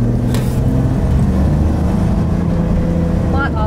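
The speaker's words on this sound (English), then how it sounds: "It feels and sounds like a bit of a race car in the back." A Holden Commodore drives along with a loud, steady engine drone and road rumble heard from the rear of the car, continuous throughout, with people talking over it.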